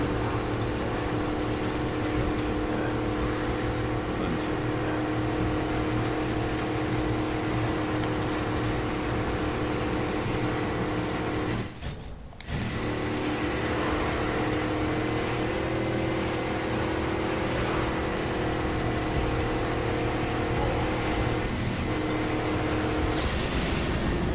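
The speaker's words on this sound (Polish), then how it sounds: "Na szczęście to auto jest już dość szybkie" Car engine roaring steadily at speed while driving in the Mad Max video game, a dense, loud mechanical drone with road noise, briefly dipping midway before resuming, no voices.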